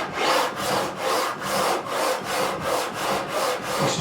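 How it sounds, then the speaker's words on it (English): Wood on a Warwick Corvette Double Buck bass neck during a neck fix is sanded by hand in a steady back-and-forth rhythm, about eight close, loud raspy strokes in four seconds with no talking. "This is just basically sanding it all off to get that perfect level along the whole length"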